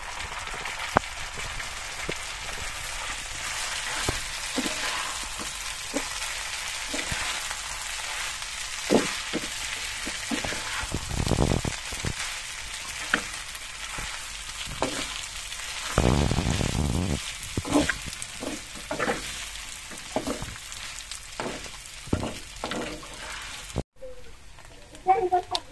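Noodles hiss and fry in a pan with onion and chilli, with a continuous sizzle and intermittent scraping as they are stirred, while a person talks over the cooking.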